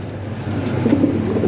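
Fancy pigeons at close range give a brief, low, throaty coo over a steady background hum.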